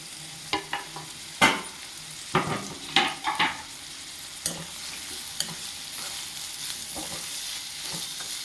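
Sliced onions deep frying in heated oil for a prawn curry, a steady soft sizzle under sharp stirring and scraping clatters at irregular intervals, close by, with no talking.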